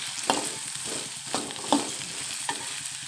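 Beans and carrots fry in oil in a pan, with a constant sizzle broken by four distinct stirring scrapes spaced roughly a second apart, close and moderately loud with no talking.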